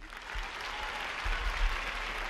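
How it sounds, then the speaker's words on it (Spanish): An audience applauds a costumed comedy character at a 1977 live show in Chile, a dense, steady wash of clapping that swells slightly partway through, with no voices on top. "todos están aplaudiendo a esta gran figura que es el Chapulín Colorado"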